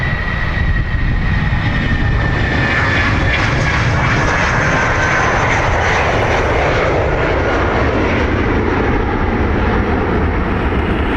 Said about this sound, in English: British Airways off to Heathrow.